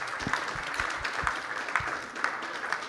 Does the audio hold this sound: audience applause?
yes